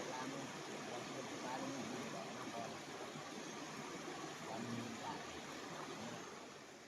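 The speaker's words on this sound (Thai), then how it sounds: "เสียงน้ำไหลตอนเช้าบรรยากาศ" River water in a forest rushes and flows steadily in the morning, a continuous broadband wash that stays even throughout with no other clear sounds.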